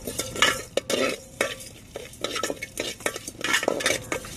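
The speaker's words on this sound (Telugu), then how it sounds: "వన్ స్పూన్ గసగసాలను కూడా వేసుకుని మొత్తం అన్నిటిని బాగా డ్రైగా వేయించుకోవాలి" Mace and poppy seeds dry roasting in a pan, with a quick irregular run of spoon scrapes and light rattling of seeds against metal over a faint sizzle, close and without talk.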